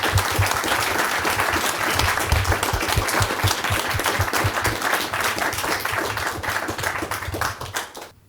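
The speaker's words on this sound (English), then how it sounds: "Let's give them a big round of applause." An audience at a British Library talk on Stanisław Wyspiański gives the speakers a warm round of applause, steady close clapping from many hands lasting about eight seconds before cutting off.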